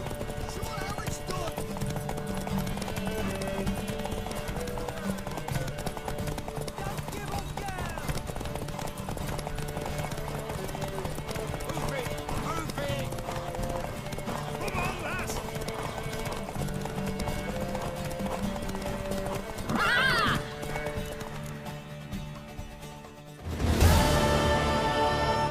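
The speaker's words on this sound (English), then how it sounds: "Want that horse, don't ya?" A horse in The Witcher 3 clip-clops steadily under ambient game music and talking, with a brief whinny near the end as the sound swells.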